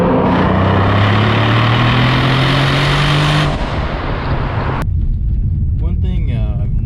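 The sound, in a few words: Mercedes-Benz AMG C63 GTS engine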